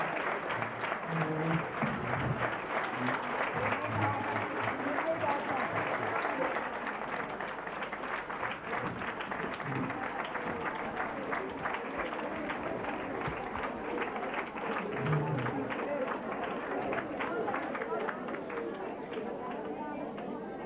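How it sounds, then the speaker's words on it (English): A conference audience applauds at length after a speech: a sustained, even roar of many hands clapping in a large hall, with murmured chatter mixed in and occasional voices underneath. "by the applause, you can understand how much they admired you"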